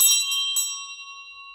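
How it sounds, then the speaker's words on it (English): Hand bell rung a few times in quick succession, bright metallic clangs close by, with a ringing tone that decays slowly into silence. "I'm ringing the bell for you 3 times"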